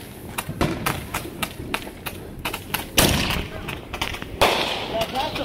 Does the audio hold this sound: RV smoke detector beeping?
no